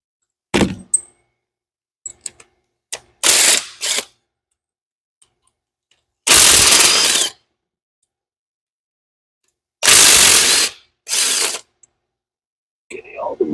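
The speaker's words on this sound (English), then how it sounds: "Getting all the bolts. All the manifold bolts are out of this side." A ratchet or power tool works the exhaust manifold bolts off a Mustang engine during a teardown, heard as loud separate bursts of a second or so broken by sharp clunks and clicks of handling, with long quiet gaps between them.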